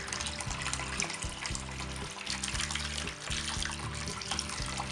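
Cold tap water runs steadily into a pot for boiling potatoes, a continuous moderate splashing stream with a low hum beneath it.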